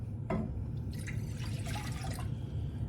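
Water pours into a saucepan, measured out for red lentil hummus, a short close splash and trickle with drips over a steady low hum.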